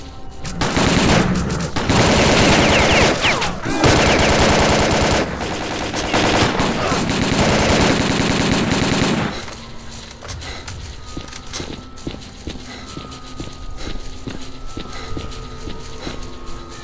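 Bursts of automatic gunfire rattle loudly and densely in S.T.A.L.K.E.R.: Call of Pripyat, several weapons firing at once for about nine seconds before cutting off to a quieter ambient hum with scattered distant sounds.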